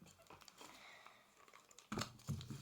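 A small collectible paper packet crinkles and rustles in the hands, giving light irregular crackles that sharpen into a couple of louder crisp crunches near the end, quiet and close.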